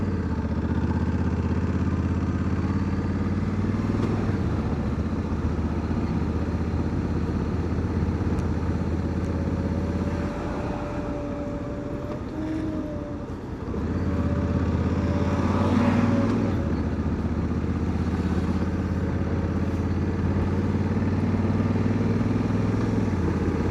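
Motorcycle engine droning steadily while riding on a freshly resurfaced road, with a dip in revs partway through before climbing again, plus road and wind rumble throughout.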